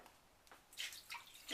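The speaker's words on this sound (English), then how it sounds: "just going to let water run through the system for about 10 minutes" Water runs through a Kangen water machine during cleaning, heard as a few soft hissing bursts of flow close by, fairly faint against a quiet background.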